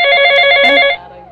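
An electronic telephone ring sounds loud and close as one sustained tonal trill, then cuts off abruptly.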